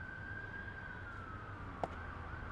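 An ambulance siren passes by Gill Stadium during a boys' baseball game, heard faint and distant as a steady wailing tone that slowly slides downward, with one brief click partway through.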